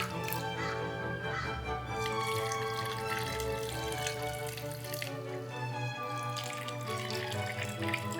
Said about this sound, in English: Bring in that hot pickling solution.